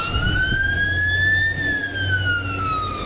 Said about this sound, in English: the sirens are getting closer